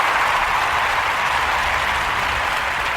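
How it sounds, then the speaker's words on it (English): Dense, steady applause from many hands, continuous and fairly loud with no voices over it. "Round of applause for that one."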